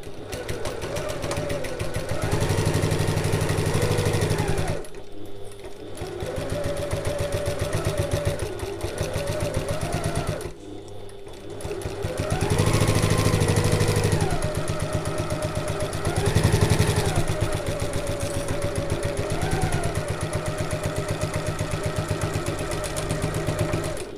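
A sewing machine sews a seam at 3/8 inch allowance with back stitching at the start and end for a large bag, running in several long loud bursts with short pauses and changes in speed.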